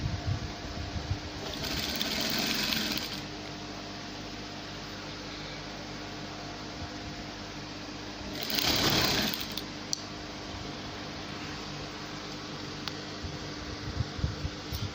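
A sewing machine stitches a dress lining in two short, loud bursts of rapid whirring, separated by a steady hum of background noise in a quiet room.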